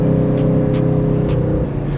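A 2026 Aston Martin Vantage Roadster engine heard with the top down, a steady loud drone with rushing wind, cruising along behind a slow vehicle.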